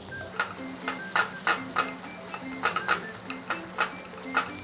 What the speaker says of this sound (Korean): 물에 살짝 불렸던 북어를 볶아주세요.